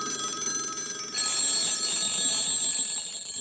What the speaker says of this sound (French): Moi, je le sais, c'est le réveil matin.